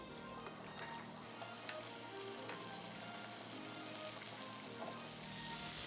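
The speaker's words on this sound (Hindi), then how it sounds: "इनको फ्राई कर रही हूँ।" Two medium potatoes, cut into round slices, frying in a little oil in a pan: a steady, even sizzle with faint stirring clicks throughout, fairly quiet and close, with no talking.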